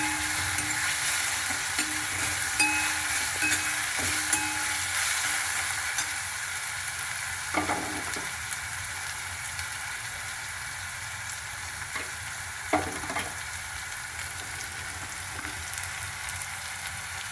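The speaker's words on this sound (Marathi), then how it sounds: "परत एकदा छान हलवून घ्यायचं आहे." Fried onion with garlic, ginger and chili paste is stirred in a hot pan, with a steady sizzle of frying throughout and a few soft scraping strokes of the spoon.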